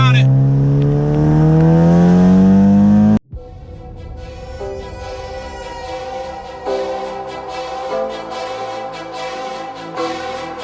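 A 2012 Honda Civic Si revs up hard with a rising engine whine, cuts off abruptly, then continues more roughly, loud and close throughout.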